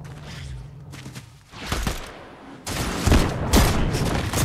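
Fortnite gameplay with an explosion: bursts of booming blasts and rapid gunfire, loud and chaotic, several heavy hits clustered in the second half.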